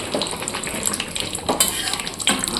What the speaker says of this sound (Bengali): চিকেন কষা হবে জল বেরিয়ে গেছে এখন কষানো হচ্ছে